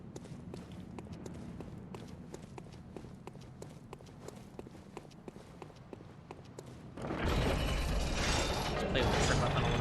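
Clanking, ratcheting mechanism of an elevator in the video game Bloodborne, steady rhythmic mechanical clicks that give way to a louder, dense rumbling surge near the end.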